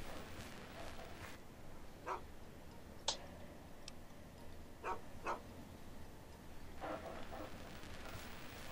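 A dog barking in the Fallout 3 video game, a handful of short, fairly faint barks scattered across the scene over a low, steady game ambience.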